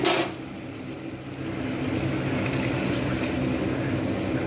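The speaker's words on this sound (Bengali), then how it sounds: "জল দিয়ে দেবো।" Water pours into a pan of katla fish curry with ridge gourd and potato after a brief clatter, followed by a steady rushing, hissing flow that holds at an even level.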